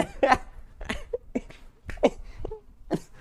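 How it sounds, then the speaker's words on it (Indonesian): A few short, close coughs in quick bursts, separated by brief pauses. "Batuk."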